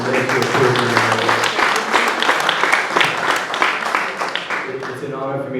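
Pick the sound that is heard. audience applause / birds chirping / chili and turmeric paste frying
audience applause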